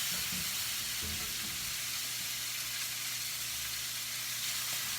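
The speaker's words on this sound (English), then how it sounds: "And get those onions to start going translucent." Onions sautéing in a pot until translucent give a soft, even sizzle that holds steady throughout, with a low hum underneath and no one talking.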